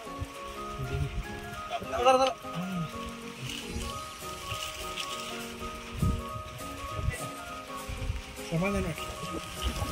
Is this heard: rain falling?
yes